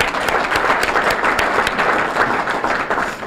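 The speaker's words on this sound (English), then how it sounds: "Let's have a big round of applause for them" A town hall audience at a State of the Town address applauds steadily for a few seconds, a dense, even wash of many hands clapping at close range with no talking over it.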